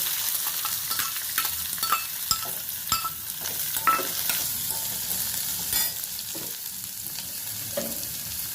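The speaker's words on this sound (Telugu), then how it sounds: "బాగా ఉల్లిపాయ ముక్కలు వేస్తున్నాను. ఉల్లిపాయ, పచ్చిమిరపకాయలు," Onion pieces and green chilies fry in oil in a pan for a spinach curry, giving a steady close sizzle broken by frequent scraping and clinking stirs throughout, with no talking.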